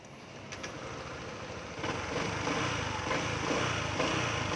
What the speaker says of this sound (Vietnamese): để nổ để nổ máy